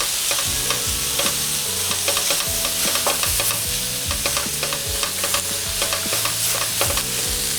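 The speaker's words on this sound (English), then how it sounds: "I'm gonna combine that flour and butter to make a roux." Flour and butter stirred into a roux in a hot pan, a spoon scraping in repeated strokes over a constant sizzle, close and loud with no voices.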